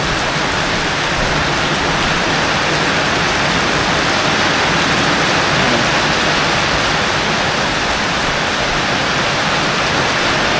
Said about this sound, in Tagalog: Tuloy-tuloy yung ulan eh.